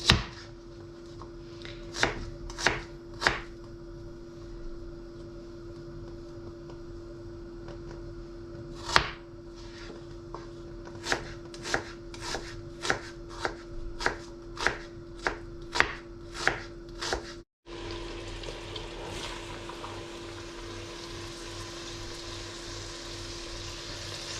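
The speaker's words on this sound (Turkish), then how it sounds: "Soğanları da doğrayayım." A knife chops onions on a board in sharp, separate taps, sparse at first and then quickening into a steady run, followed by a continuous sizzling hiss of onions frying.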